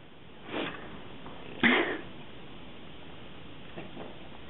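A bed bug detection dog sniffs in two quick bursts of snuffling breaths close to the microphone, with a fainter sniff near the end and quiet surroundings otherwise.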